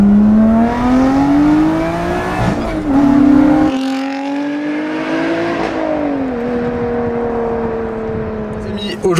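A Lotus Exige 430 Cup accelerates hard at full throttle from inside the cabin, the engine note rising through the gears with quick dips at each shift, loud and close.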